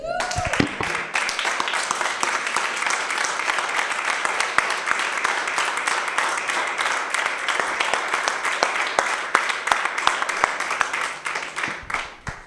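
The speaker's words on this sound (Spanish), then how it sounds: "Ponte de pie y dale un aplauso fuerte a Jesús." Standing church congregation clapping loudly and continuously, dense many-handed applause filling the room for about twelve seconds before tapering off at the end.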